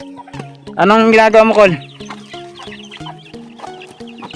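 Chickens cluck and call nearby in short, repeated bursts, with a voice speaking briefly over them.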